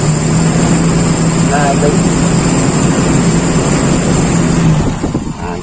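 Toyota Kijang engine idling steadily during a carburetor test, a loud continuous hum close by with a short spoken remark over it.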